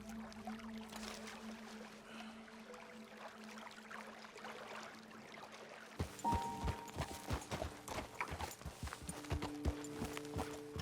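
Horses' hooves clip-clopping in the video game Red Dead Redemption 2, starting abruptly partway through as a run of close, rhythmic hoof strikes over a quiet outdoor ambience with a low hum beforehand.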